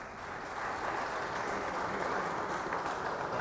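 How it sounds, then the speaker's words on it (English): Faint, steady applause from an audience at an outdoor anniversary celebration for a public swimming pool, a continuous soft patter of clapping heard from a distance without any talk over it. "So if everyone can, round of applause for Lee."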